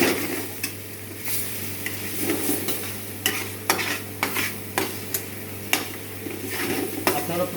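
Liver chorchori sizzles in a pan with ghee, and a spoon stirs and scrapes against the metal in sharp, irregular clacks over a steady low hum, close and fairly loud, with no talking.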